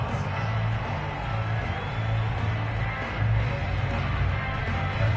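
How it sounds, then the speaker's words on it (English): Stadium crowd noise from a Madden 22 NFL game, Broncos hosting the Cowboys, a steady roaring crowd with a low sustained rumble and faint cheers swelling, continuous throughout without talk. "And this crowd loves it as their guys hold on the opening drive."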